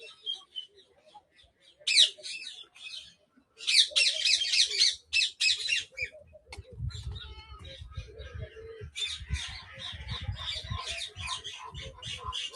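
Ibises in a bird sanctuary aviary give bursts of harsh, raspy squawks, loud and close, in several clusters with short pauses between them, over a low rumble from the surroundings.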